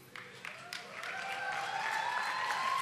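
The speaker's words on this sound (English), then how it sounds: "when the clapping and the applause is only like a two" A youth conference audience claps and applauds at a worship session, the sound swelling from scattered claps into steady, fuller applause, with a faint tonal hum beneath it.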